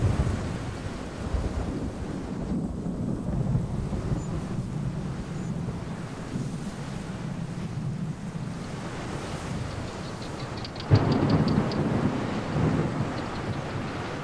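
Over the Kalahari savannah, a thunderstorm rumbles with long rolling thunder, wind and rain washing in a steady broad roar, with a louder swell near the end and no voices.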